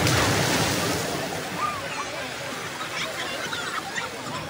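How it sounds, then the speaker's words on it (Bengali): Sea waves on the beach at Digha, a steady broad wash of surf close by with continuous rushing texture and slight swells, wind noise mixed in. "সমুদ্রের ঢেউ শুনলাম"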